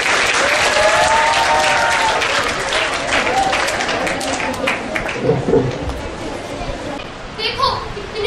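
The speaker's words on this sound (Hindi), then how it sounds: "अब जोरदार तालियों से स्वागत कीजिए पहले सदन का, जो कि है एकता सदन।" Loud applause at a Hindi Diwas school celebration welcoming the Ekta house, a broad crowd of clapping with children's voices and chatter mixed in, easing toward the end.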